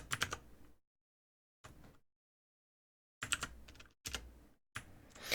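Clicky computer keyboard typing in short bursts of rapid keystrokes separated by silent pauses, close and moderately loud, with no voices.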